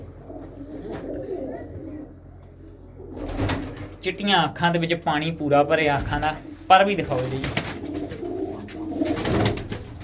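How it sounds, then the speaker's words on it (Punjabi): Pigeons coo softly at close range while someone talks over them. "ਆ ਲਓ ਬਾਈ ਆ ਦੇਖ ਲਓ ਕਬੂਤਰ"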